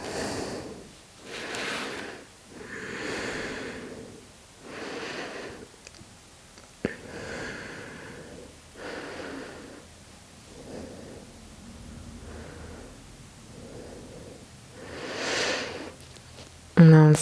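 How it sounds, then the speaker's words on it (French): Ujjayi yoga breathing during a guided posture sequence: slow, audible breaths come as a steady series of soft, airy swells roughly every one to two seconds, close and fairly quiet, with no other sound over them. "on pense bien à la respiration Ujjayi"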